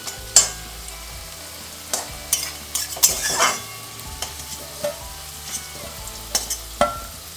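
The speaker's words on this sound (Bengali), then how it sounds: "আলুগুলো খুব সুন্দর মচমচে করে ভাজা হয়ে গেছে" Potatoes frying in oil with a steady background sizzle, broken up by repeated scraping and stirring clatters at uneven intervals; no talking.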